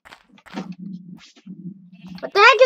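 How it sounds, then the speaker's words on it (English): A horse in the Minecraft video game makes a few short, low snorting grunts, followed by a loud, whinnying bleat near the end. "Oh, no, that's a horse."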